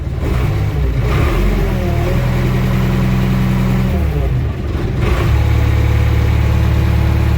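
A JCB hydraulic machine's diesel engine runs close by with a deep, steady rumble. About two-thirds of the way through it is given a brief rev before settling back to a strong idle.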